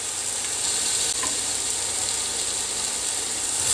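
Elk patties sizzling on a George Foreman grill, a steady, even hiss of frying that holds at a constant level throughout, close and without talking.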